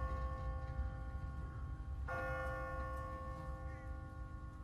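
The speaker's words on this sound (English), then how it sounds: "No one's ringing that bell. It's automatic. On a timer." An automatic, timer-driven church bell in The Walking Dead video game rings with a sustained, humming tone, struck once more midway and then fading slowly.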